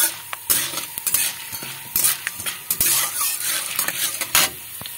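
Raw peanuts fry in a pan over a very low gas flame. A steady sizzle runs under frequent close scraping and stirring strokes from a spatula, with no talk.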